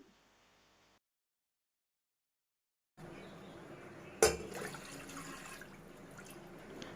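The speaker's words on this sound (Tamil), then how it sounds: "1 டம்ளர் பாஸ்மதி அரிசிக்கு 3 டம்ளர் தண்ணி நான் சேர்த்துக்கிறேன்." Water poured into a pressure cooker with basmati rice in a home kitchen, a soft trickling pour with a sharp metallic clink partway through, quiet and close, preceded by near silence.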